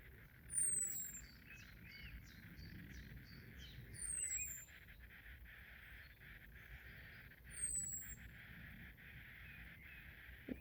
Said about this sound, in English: Blackbird on the roof.